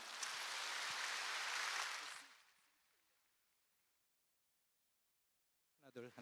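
A congregation at a church Bible lecture applauds loudly and steadily to welcome a pastor, the clapping fading out over a few seconds before silence and a brief voice.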